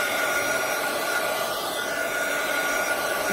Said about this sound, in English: I just want to dry it a little bit